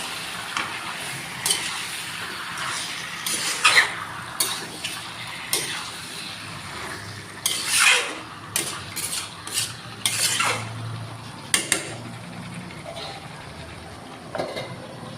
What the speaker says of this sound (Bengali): দেখেন এই যে মাংসটা আমি এর মধ্যে 2-1 বার নাইড়া দিছি